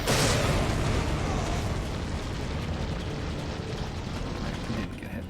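A grenade blast in the Resident Evil 4 game, a loud broadband boom at the start that decays into a long rumbling, crackling tail of debris and echo, with no talk over it.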